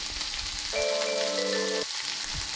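Snail and potato curry sautéing with spices in a pan, a steady close sizzle and frying crackle running throughout, with a brief sustained tonal hum in the middle.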